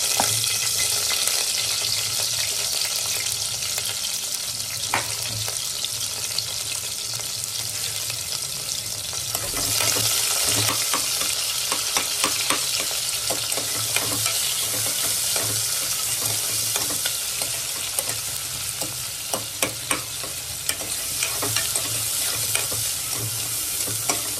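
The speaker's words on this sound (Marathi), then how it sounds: "जिरा मोहरी टाकल्यानंतर कांदा आपण टाकणार आहोत." Chopped onion sizzles with cumin and mustard seeds in hot oil for khichdi, a continuous crackling hiss with occasional scraping stirs and small pops throughout.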